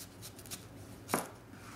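A knife strikes a cutting board once while half an onion is cut for a Greek salad, a single crisp chop near the end of an otherwise quiet moment.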